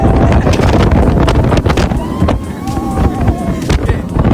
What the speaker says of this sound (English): We are on Mako at SeaWorld Orlando. This is a B&M hyper coaster.